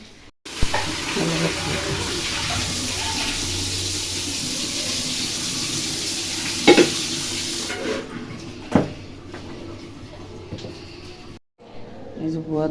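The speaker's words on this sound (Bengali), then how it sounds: "এই তো সকালের নাস্তা দুটো ডিম সিদ্ধ করছি" Two eggs boil in a pot on a home stove, a steady, close bubbling hiss with a couple of brief knocks, while a person talks over it.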